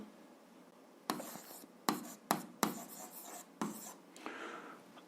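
Pen or pencil writing on paper while working an algebra exercise: a handful of close, crisp scratchy strokes in short bursts, separated by quiet pauses, with no talk.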